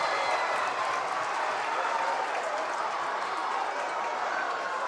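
Crowd at a boys varsity high school basketball game applauding and cheering after a steal, a steady broad roar of clapping and voices filling the gym, moderately loud and even from start to finish.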